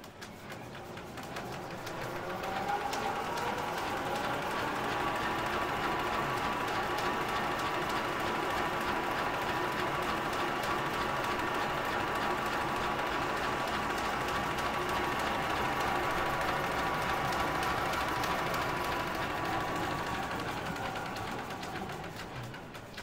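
A DC330Mini compact digital label finishing line runs at 80 m/min, giving off a steady mechanical whir with rapid ratcheting and gear clatter. The noise is sustained and fairly even throughout, with no voices over it.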